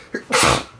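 A single sharp human sneeze, close and loud: a brief intake followed by an explosive burst that fades quickly, heard on its own.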